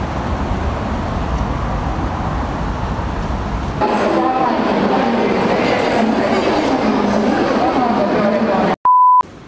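A passenger train runs from Yokohama Station to Shin Yokohama Station in Japan. A loud, steady rumble of the ride fills the cabin and shifts partway through, and a short electronic beep sounds near the end.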